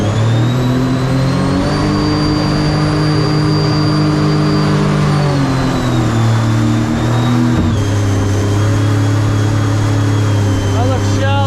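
Engine of a center console mini jet boat with only 26 miles on it, droning loudly and continuously with revs easing down and back up, close and dominant throughout.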